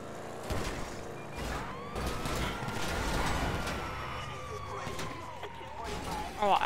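A police car siren in the video game GTA 5 wails and sweeps continuously, rising and falling at moderate distance amid game engine and street noise.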